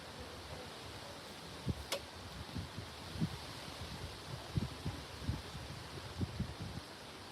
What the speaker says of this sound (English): Yeah, it's just windy. It's knocking down a lot of leaves.